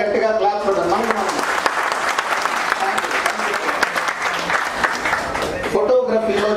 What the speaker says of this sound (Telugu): ఒక్కసారి గట్టిగా క్లాప్ చేద్దాం